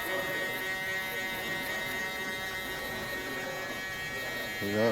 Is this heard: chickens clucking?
no